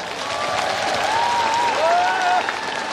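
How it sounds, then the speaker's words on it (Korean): An audience at a book launch concert in Gongju claps steadily and loudly, a dense sustained round of applause with a faint voice over it. "여러분 박수 한번 크게 주세요."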